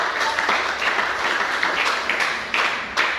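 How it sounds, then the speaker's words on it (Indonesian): A roomful of people applauds steadily after a group prayer at a teacher-training session, dense overlapping claps filling the space with a few louder surges. "Tepuk tangan untuk"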